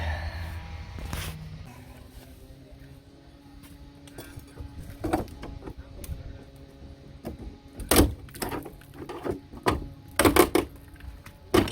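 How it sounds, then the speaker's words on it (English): A pry bar works at a car's cut-open rear door in a garage: scattered metallic clanks and creaks over a quiet stretch, then a cluster of sharp, loud knocks and snaps toward the end. "I'm going to drive a pry bar in somewhere about here and hope it undoes"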